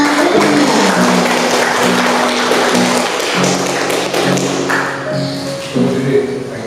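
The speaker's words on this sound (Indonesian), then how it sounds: "marilah kita berikan tepuk tangan untuk pembicara kita, Ibu Rustiana" Audience applause for a speaker at a positive-culture dissemination event, loud steady clapping lasting throughout, with a sustained musical tone underneath and some voices mixed in.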